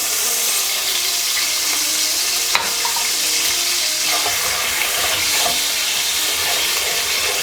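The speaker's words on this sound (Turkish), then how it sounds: "şehriyemiz renk alana kadar kavuralım" Vermicelli frying in melted butter in a pot, giving a steady, loud sizzle throughout with a few light stirring knocks, close up and without any talking.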